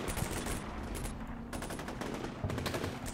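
Rapid gunfire from assorted weapons in the video game Combat Mission Shock Force, dense overlapping bursts and sharp reports, with a constant crackle of distant shots beneath occasional louder close volleys.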